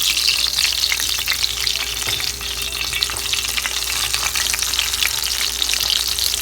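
Breaded steak sizzles and fries steadily in a pan, a dense, continuous crackling hiss that stays loud and close throughout with no talking.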